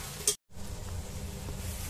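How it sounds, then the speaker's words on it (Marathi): Green chillies being sautéed for tempering sizzle softly in a pan after salt and sugar go in, a short burst of stirring, a brief gap, then a steady low frying hiss. "आता व्यवस्थित परतून घेऊया।"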